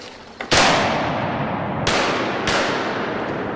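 Three loud shotgun blasts go off close by during a duck hunt, one near the start and two more in quick succession about two seconds later, each followed by a short decaying echo.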